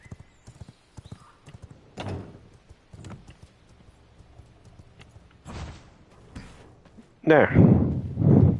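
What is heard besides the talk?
horse hooves clip-clopping in the video game V Rising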